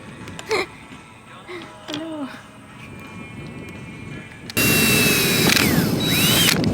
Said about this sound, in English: you want to get the drill and just make pilot holes for each one of these little holes